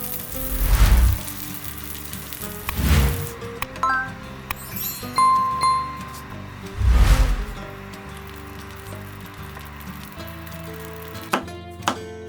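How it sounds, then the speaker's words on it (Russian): Vegetables frying in two pans give a continuous sizzle. Louder hissing swells and stirring clinks rise and fade over it, close by. "Вообще все обжаривать удобнее на двух сковородках"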